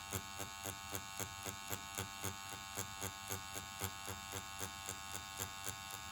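A powder brow tattoo machine buzzes steadily with a quick, regular pulsing as it is worked across ombre brows, a close, continuous electric whir with rhythmic beats and no talking.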